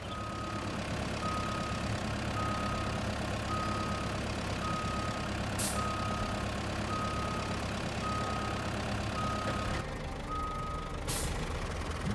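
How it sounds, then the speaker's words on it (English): A logging truck in the RoadCraft game reversing, its steady backup beeps repeating at an even pace over a constant diesel engine drone, with two short air-brake hisses near the middle and the end. "We might just hop back into our little loggy truck and just pull him a bit further back out of the way."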